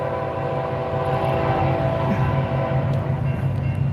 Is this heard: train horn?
yes